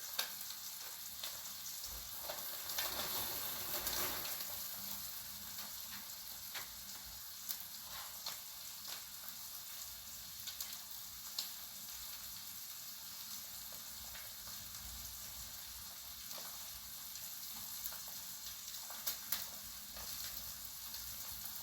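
Pork shoulder blade steaks fry in butter with a steady, moderately quiet sizzle and occasional small pops and ticks, and no voices.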